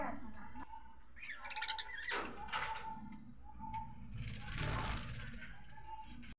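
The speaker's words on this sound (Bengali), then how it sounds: "এগুলো সব ধাড়ি পাখি" Adult pigeons or doves in a cage coo softly with repeated low calls, mixed with rustling and wing movement nearby.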